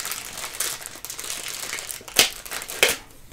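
Taped plastic packaging from an unboxing is crinkled and pulled open, close up, with soft rustling and a couple of sharp crackling rips near the end.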